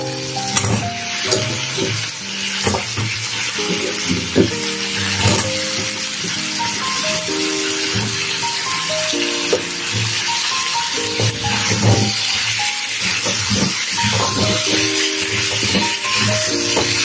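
Cut potatoes sizzling steadily as they fry in a pan with softened tomato and onion, a dense continuous hiss with occasional stirring scrapes, close and fairly loud, with music playing underneath.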